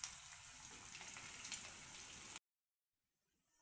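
Vegetable manchurian balls fry in oil with a continuous soft bubbling sizzle that cuts off abruptly, leaving near silence.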